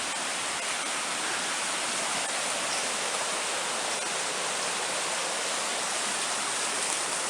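A waterfall cuts through sheer rock cliffs, heard as a steady, dense rushing roar of falling water that stays constant and fairly loud throughout, with no voices over it.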